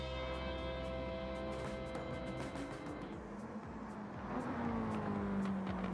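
Mazda MX-5 touring race cars in a racing video game, engines droning steadily with overlapping tones, one car's pitch sweeping down near the end as it passes close, with no talk over it.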